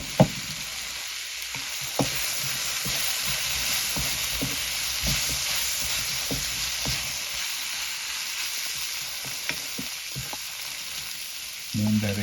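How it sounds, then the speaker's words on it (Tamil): Tomatoes frying and softening in a pan for a South Indian calamari dish, a steady close sizzle with occasional stirring scrapes and taps. "தக்காளி பழம் நல்லா நல்ல வதங்கி வெந்து மசியும்"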